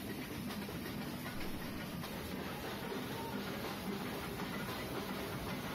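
Nilgiri Mountain Railway toy train rolling through forested hills toward Ooty, a steady low rumble and faint rail clatter heard from inside the carriage, continuous and quiet.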